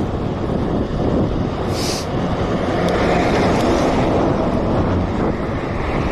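Strong wind rumbling across the microphone while cycling outdoors, a loud continuous low roar lasting the whole stretch, no speech heard.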